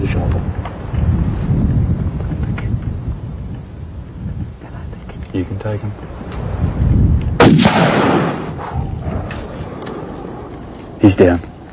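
A single loud, sharp rifle shot cracks out midway while hunting a stag in a mountain clearing, standing out against steady outdoor wind and background rumble, with a second brief sharp burst near the end.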